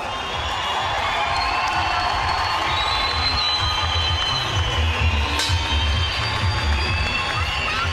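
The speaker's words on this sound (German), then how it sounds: "da gibt es bitte noch einmal ganz, ganz großen Applaus" A large crowd at a fight event applauds and cheers a fighter after his last bout, a loud, sustained roar of clapping and shouting with a whistle cutting through midway.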